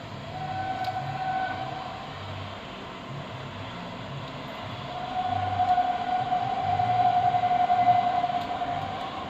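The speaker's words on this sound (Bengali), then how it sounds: "ওই দেখুন দূরে ট্রেন আসছে" A distant train rumbles along steadily, its low drone swelling slightly toward the end, with a faint tonal hum over the background.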